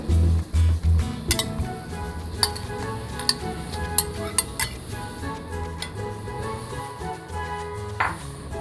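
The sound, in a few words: stirring seaweed soup in a pot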